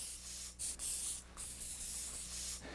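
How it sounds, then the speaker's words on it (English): Bursts of fine mist from a spray bottle hiss across hair during a formal updo styling session, several close, soft sprays in a loose irregular rhythm with brief pauses between them and no talking. "You see I'm misting the hair a fair amount, but it's all going along the side of the head."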